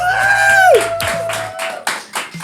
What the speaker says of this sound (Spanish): Recibamos con un muy fuerte aplauso a nuestro invitado del día de hoy, Rafael Tort.